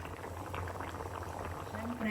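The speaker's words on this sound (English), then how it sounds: "So maybe we'll just simmer this for a few more minutes" Pork curry with bell peppers simmering in a pot, a close, steady bubbling and gentle popping of thick liquid that continues throughout, with a voice briefly present.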